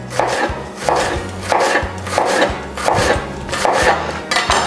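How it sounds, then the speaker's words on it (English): A knife slices onion thinly on a cutting board for a chicken salad, a steady rhythm of about eight firm chops, each with a short crunchy cut and a thud on the board, close and fairly loud with no talking. "Thin slices of onion."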